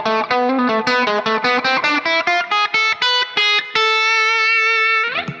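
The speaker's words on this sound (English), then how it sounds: "And so A harmonic minor sounds like this." Distorted electric guitar plays a quick run of single notes up the A harmonic minor scale, ending on a long sustained note that bends off at the end.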